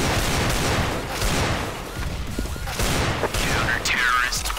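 Rapid bursts of gunfire from the Desert Eagle in the video game CS:GO crack loudly in quick succession, with sharp shots and some mechanical clatter in the middle of a match.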